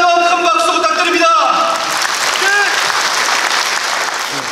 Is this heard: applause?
yes